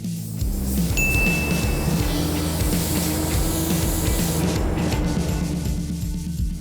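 A spray gun lays a paint coat on a 1970 GTX car body, a loud continuous hissing spray with slight rhythmic pulsing that runs for most of the clip, with no talking.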